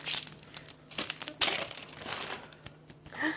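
Packaged sticker sheets being opened, with irregular plastic crinkling and crunching bursts, close and fairly quiet, a sharper tearing rustle in the middle.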